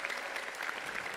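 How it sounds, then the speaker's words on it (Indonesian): Lively applause from a crowd at a political party event in Indonesia, a steady dense wash of clapping throughout with no voices standing out. "Kita iringi dengan tepuk tangan yang meriah."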